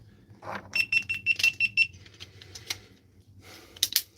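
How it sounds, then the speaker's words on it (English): Repeated sharp electronic beeps from an alarm-like device, a quick run of about eight evenly spaced tones followed by a few scattered beeps, fairly close and loud with no talk over them. "That beep gives me PTSD."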